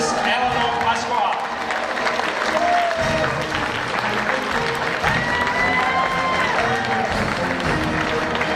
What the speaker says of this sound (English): please give all of these country and association a round of applause